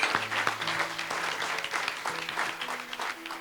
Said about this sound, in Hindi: Clap your hands and give praise unto God.